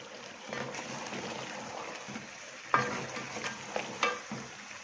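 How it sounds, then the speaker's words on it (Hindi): Beef nihari meat sizzles and fries in a pot over raised heat while being stirred, with a steady frying hiss and a couple of sharper spatters near the end. "और आंच थोड़ी सी तेज़ करके इसको भून लेंगे।"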